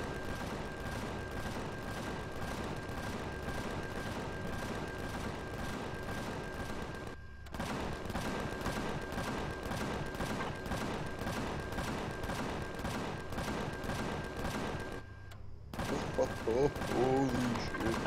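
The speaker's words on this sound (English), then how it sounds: "they're shooting all these spiders out there" Rapid, sustained automatic gunfire in the space game Empyrion as spiders are shot outdoors, a dense rattling stream broken by two brief pauses and followed by a few scattered shots.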